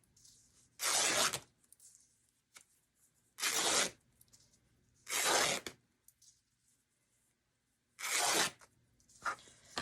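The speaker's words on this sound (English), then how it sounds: "you could cut these right through instead of ripping them" Fabric is torn into strips by hand for an embroidery hoop bunny sign, making four separate sharp ripping bursts, each about half a second long, close up with quiet pauses between them.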